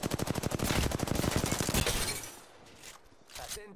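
Gunfire rattles through a squad fight in the video game Apex Legends. A loud rapid automatic burst runs for about two seconds, then gives way to a few scattered, fainter shots.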